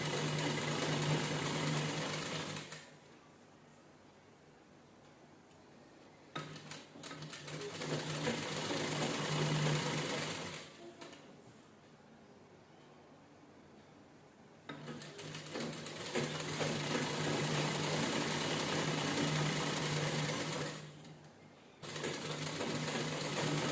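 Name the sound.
sewing machine stitching a princess blouse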